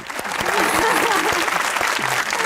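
A studio audience on a talk show breaks into loud, dense, continuous clapping while a host keeps speaking over the applause.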